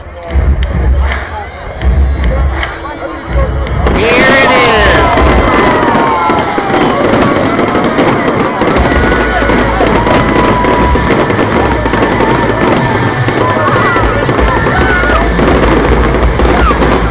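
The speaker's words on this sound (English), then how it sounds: "2023 Independence Day fireworks." 2023 Independence Day fireworks bursting continuously and loudly, with dense crackling explosions and booms over a cheering crowd that swells after the first few seconds.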